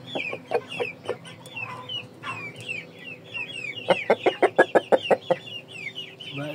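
Chickens, including Ganoi Saigon and Shamo game fowl, cluck nearby in bursts, with a rapid run of sharp clucks near the middle and soft background rustle.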